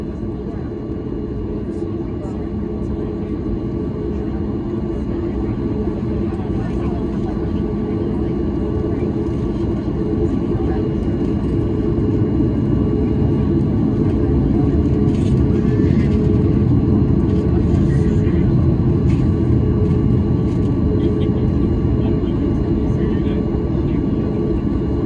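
A Southwest Airlines Boeing 737 MAX 8 jet departs, heard from inside as a steady, loud low engine roar and rumble that builds slightly and holds without a break for the whole stretch.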